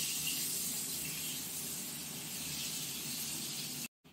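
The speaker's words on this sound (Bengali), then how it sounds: "আর আলুটাকে এবার বেশি তেলে করে ভেজে নেওয়া হবে।" Potato pieces fry in plenty of hot oil, giving a steady, soft sizzling hiss that runs on continuously and then cuts off abruptly near the end.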